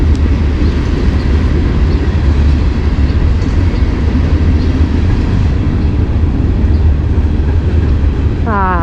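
A Norfolk Southern freight train rumbles past close by in Lakewood, Ohio, a steady loud roar of rolling cars and wheels throughout, with a rising horn-like tone near the end.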